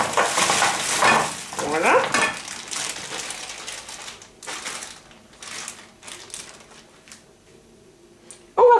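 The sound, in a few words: spinach cooking and being stirred in a covered pan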